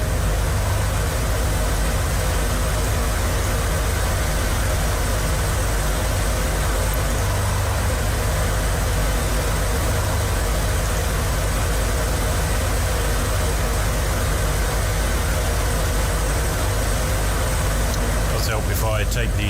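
Engines of an Airbus H145 HEMS helicopter idling in Microsoft Flight Simulator 2020, a loud, steady, unbroken whine and hum lasting the whole stretch, with no change in pitch or level.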